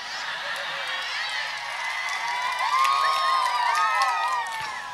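Audience applause and crowd noise at a Sundanese comedic sermon in Sukabumi, a steady wash of clapping and cheering lasting the whole stretch, rising slightly midway, with voices mixed in.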